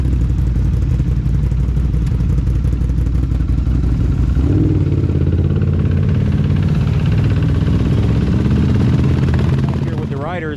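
Two ATVs, a Can-Am Renegade 850 and a Yamaha YFZ 450, drone loudly and steadily nearby with low engine rumble and clatter, the pitch shifting midway as one revs, with voices talking over the engines at a Florida trail riders race.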